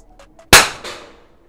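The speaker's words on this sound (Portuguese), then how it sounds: "Vamos dar um disparo em alguma coisa que não volte aqui. Vamos dar uma aqui no mato só pra ver." A CO2 air pistol fires a single aluminum pellet into brush outdoors, giving one sharp, loud crack with a short decaying tail and a quieter second impact right after, preceded by faint mechanical clicks.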